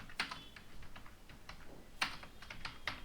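Code being typed on a computer keyboard: quiet, close clicking keystrokes in irregular bursts, with a few sharper key presses standing out over a low room hiss.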